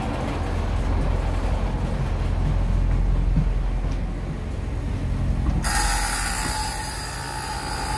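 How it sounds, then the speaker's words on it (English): A school bus's left turn signal ticks steadily while parked, a mechanical relay clicking over a constant low background hum. "Let's turn my left turn signal on."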